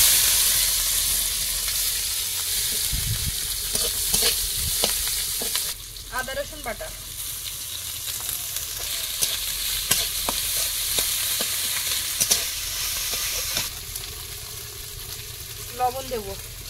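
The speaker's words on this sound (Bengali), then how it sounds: "পেঁয়াজ আর কাঁচা লঙ্কা দেবো।" Onion and green chilli fry in oil in a kadai, a loud, continuous sizzling hiss that stays steady throughout, with occasional spoon scrapes and a few faint voices underneath.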